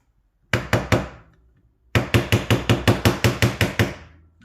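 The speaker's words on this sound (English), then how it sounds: "keep tapping away, and the screw will come loose." A hammer taps on a screw on a Honda VTR Firestorm motorcycle, first three sharp metallic knocks, then a pause and a quick run of about a dozen evenly spaced, ringing blows, loud and close.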